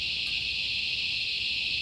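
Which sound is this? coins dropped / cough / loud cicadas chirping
loud cicadas chirping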